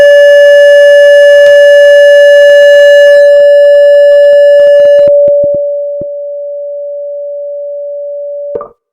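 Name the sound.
test tone with varying amplitude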